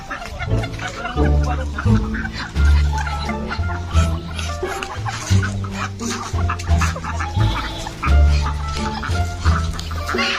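A flock of chickens clucks steadily up close in rhythmic bursts, with faint voices in the background.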